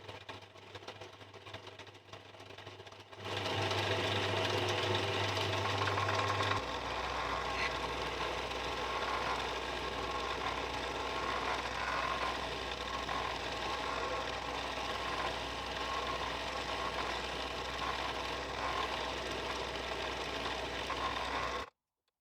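Drill bit boring into a workpiece on a lathe: a steady mechanical whir and grinding hum that starts a few seconds in and runs continuously at moderate level.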